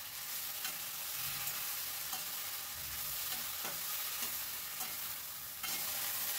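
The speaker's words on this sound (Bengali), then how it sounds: "কড়াইশুঁটিটা দিয়ে আবারও সব কিছু ভালো করে মিশিয়ে নিচ্ছি। গ্যাসের ফ্লেমটা হাইতেই রেখেছি আর অনবরত কিন্তু নাড়তে হবে।" Green peas fried in hot oil over a high flame hiss and crackle while being stirred constantly in a kadai, with scraping strokes from the stirring throughout, a close, steady sound with no talking.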